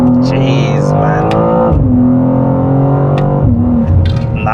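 A sports car accelerates hard but short of full throttle, its engine note climbing steadily then dropping sharply twice as gears change, loud and close throughout.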